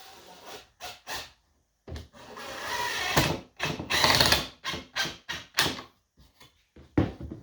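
Screw being driven into the wooden frame of a canvas stretcher, a series of short ratcheting, grinding bursts with brief gaps between them, close and fairly loud, ending in a few sharper clicks.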